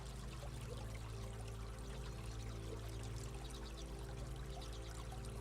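Water flows steadily close by on a jungle path, a constant soft rushing and trickling with faint splashes, even and unbroken throughout, quiet with no voices.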